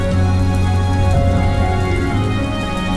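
Steady, loud rain pours onto a street, a dense continuous hiss of drops with a low rumbling undertone and no voices.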